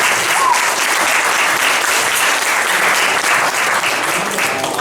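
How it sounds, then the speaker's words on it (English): Sustained, loud audience applause fills a comedy improv night at a pub, steady and dense from start to finish with no speech over it. "Round of applause for them,"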